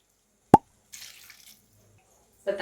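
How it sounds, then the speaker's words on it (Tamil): Water goes into ash gourd (white pumpkin) kootu with tomato in a pan: one sharp plop, then a brief soft splashing pour and a quiet later splash, with silence between. "இப்போ இதில் தேவையான அளவு தண்ணி சேர்த்துக்கிறேன்."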